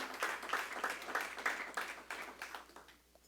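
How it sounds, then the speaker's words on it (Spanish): A church congregation claps together as an offering of praise during a worship service. The clapping comes as fairly even, rhythmic bursts at moderate distance and tapers off toward the end. "Dale una ofrenda de palmas al Rey en el nombre de Jesús."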